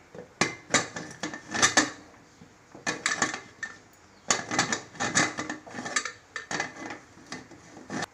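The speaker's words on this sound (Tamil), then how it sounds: "இப்போ குக்கர் அடுப்பில் வச்சுட்டேன் மூடி வச்சுட்டேன்" Metallic clanks and clatters of a pressure cooker lid being handled and closed on the cooker, a series of sharp knocks in irregular bursts, close by.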